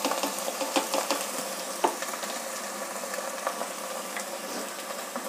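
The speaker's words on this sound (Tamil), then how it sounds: "நல்லா வெங்காயம் நல்லா வதங்கிட்டு இப்போ வந்து இந்த வெஜிடபிள்லாம் சேர்த்துக்கலாம்." Vegetables are stirred into sautéed onions in a pan, giving a soft steady sizzle with light scraping and clicking utensil strokes scattered throughout.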